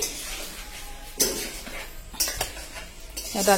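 Meat cooks in a pot while a metal spoon stirs and scrapes, giving sharp clinks and scrapes against faint sizzling, close and with no talking.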